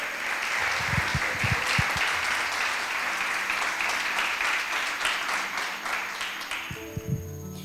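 Church congregation applauding the Lord during a Spanish-language Sunday service, a sustained, dense wash of many hands clapping, fairly loud and even, with a few low thumps and a brief voice as it tapers off.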